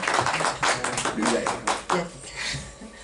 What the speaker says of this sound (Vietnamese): Xin chúng ta cho một tràng pháo tay đến Mục Sư Hùng.